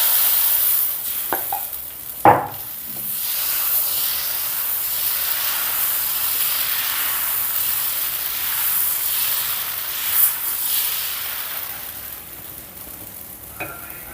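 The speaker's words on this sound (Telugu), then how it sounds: "మనం ఇప్పుడు స్పైసీగా ఉల్లిపాయ అన్నీ వేసి ఇంకొక దోశ వేసుకుందాం పల్చగా." Thin pesarattu dosa batter topped with spicy chopped onion sizzles on a hot pan, a steady broad hiss running throughout with a few sharp utensil clicks near the start and end.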